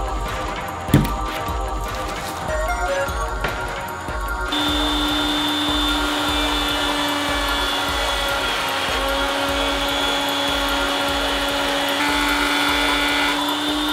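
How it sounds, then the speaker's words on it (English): A wood router cuts a desk part along a template, a loud steady high-pitched whine running continuously for about ten seconds after a brief spin-up and knock. "Now I can always route downhill to minimize chip out."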